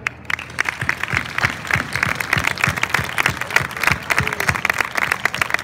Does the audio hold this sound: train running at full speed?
no